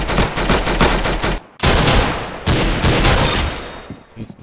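Gunfire in a video game, a loud dense run of rapid shots from a pistol and other weapons, dropping to a brief silence near the middle and then resuming in heavy continuous bursts.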